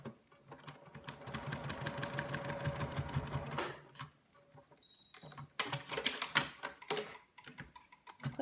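A sewing machine stitching a quilt triangle for a no-Y-seam feathered star block, running in rapid mechanical bursts, close and fairly quiet, with a short pause before it starts up again.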